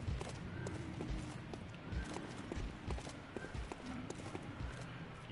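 Heavy footsteps of a large figure in the game Bloodborne, a run of repeated dull thuds in an uneven rhythm over a low game ambience.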